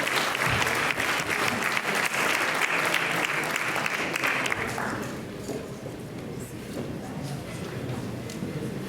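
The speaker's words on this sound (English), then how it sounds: "Let's give another round of applause for the Indian Consulate, Vikantajan Ashok." Applause at a community unity dinner, a full round of clapping from many guests that fades after about five seconds into a murmur of crowd noise and chatter.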